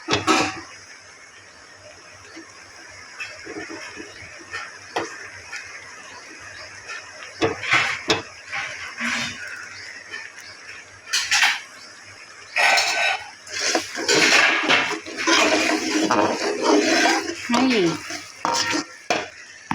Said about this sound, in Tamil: இப்போ கொஞ்சம் கொஞ்சமாக நம்ம நெய்யை சேர்த்து சேர்த்து கிண்டிக்க வேண்டியதான்